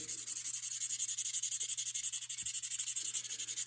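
Light abrasive rubbing of a nail-buffing pad, roughly 600 grit, against steel on a Mauser 98 rifle part, a steady fast back-and-forth hiss, close and quiet, with a low electrical hum underneath.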